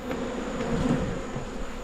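Honey bees buzz in a dense, continuous drone at an opened hive during a mid-October inspection of a colony with a good queen, loud and close with no talking.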